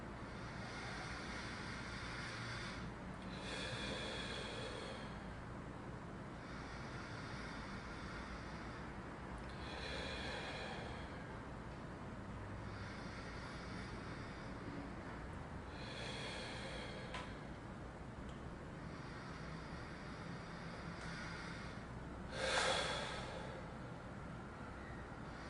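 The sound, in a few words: slow deep breathing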